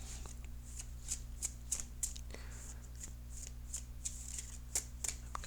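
Tarot cards are shuffled and cut by hand in a quiet room, with a steady run of soft, crisp riffling flicks and light taps, close up under a low background hum.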